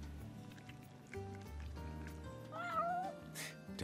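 A cat meows in Final Fantasy XV, a short rising-and-falling cry heard over soft background music.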